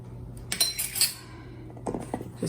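A spoon stirring a mixture in a home-kitchen bowl while making gingerbread, with two short bursts of metallic clinks and scrapes against the bowl separated by a brief lull, close and fairly quiet.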